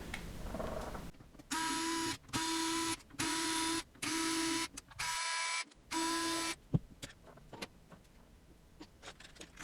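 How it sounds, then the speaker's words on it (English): Bolts being backed out of a Moza Universal CS wheel hub quick release with a power driver, five evenly spaced whirring bursts of about a second each, followed by light clicks and metallic handling noises. "We're just going to take out these bolts and then pop on the 305."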